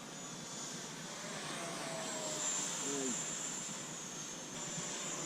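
Foam board 64mm EDF F-20 style model jet at about three-quarter throttle flying a fast pass, a steady airy ducted-fan whine that swells slightly mid-pass and stays fairly quiet and continuous throughout.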